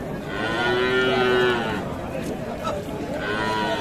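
Bullocks lowing at a busy rural cattle market, with one clear drawn-out moo near the start over background crowd chatter and murmuring voices.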